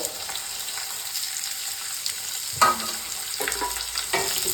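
Gooseberry chutney ingredients fry in a pan with turmeric and salt, making a soft sizzle broken by a few sharper stirring scrapes and clatters near the end.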